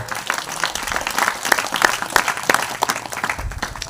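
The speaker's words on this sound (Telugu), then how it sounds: "చప్పట్లు కొట్టండి గట్టిగా." A church congregation claps loudly during a sermon, producing a dense, continuous round of applause with a few sharper individual claps standing out.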